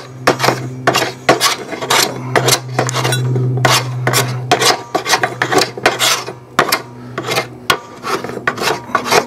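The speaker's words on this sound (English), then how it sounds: "you may want to use a horseshoe rasp or similar, just to do any fine tuning as you go through" A rasp files a wooden axe handle to fit the axe head, giving repeated rough scraping strokes in a steady rhythm, close and loud, with a faint metallic clink between some strokes.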